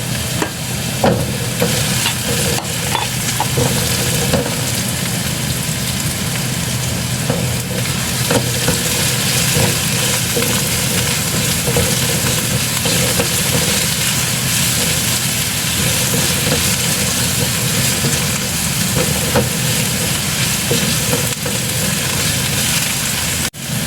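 Garlic, ginger and onion stir-fry in a hot pan for braised pork with wax gourd, a loud, unbroken hissing sizzle close by with faint scraping of the spatula throughout.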